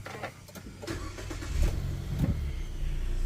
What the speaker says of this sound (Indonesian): cukup injek rem dan tekan start button di sini untuk menyalakan mesinnya